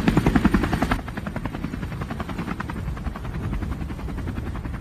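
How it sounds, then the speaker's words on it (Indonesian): A helicopter arrives with a steady, loud rotor chop that is strongest at the very start and then settles into a continuous thudding drone for several seconds. "sebuah helikopter pun tiba"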